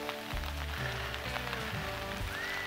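Rain falls during a hike on the Hohe Mark Steig between Flaesheim and Haltern, a continuous close hiss of drops with low rumbling underneath.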